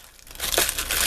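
Plastic packaging crinkles and crackles as a leathery vinyl bookmark is pulled out during a craft subscription box unboxing, quiet at first then rising into a dense, close rustle.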